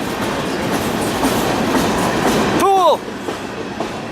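Freight train rolling past on rails with continuous close clatter and rumble; near the end, brief squealing tones ring out before the noise eases.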